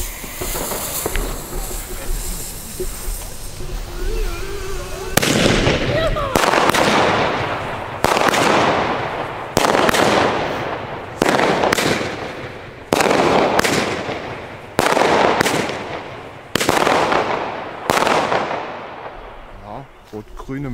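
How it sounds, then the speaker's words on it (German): A small Weco 8-shot firework battery fires outdoors: after a brief fizzing fuse, eight or so sharp launches come in a steady rhythm about every one and a half seconds, each a loud bang trailing into hiss, close by. "Wir starten mit einer kleinen 8-Schuss."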